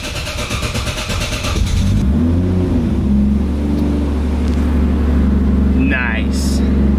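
Nissan GTR engine cranks with a rapid starter whir, then fires and settles into a deep, steady idle with slight rises in revs; someone talks briefly over it.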